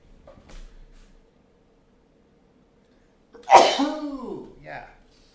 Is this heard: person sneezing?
yes